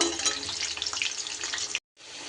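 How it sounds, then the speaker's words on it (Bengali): Halved potatoes frying in hot oil for a mutton curry, a dense steady sizzle that holds close and loud, then cuts out briefly before resuming. "আলুগুলোকে আগে ভেজে নেব"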